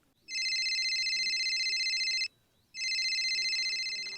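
A telephone rings on an outgoing call in two long electronic trilling bursts separated by a short pause, clear and close with no voices over it.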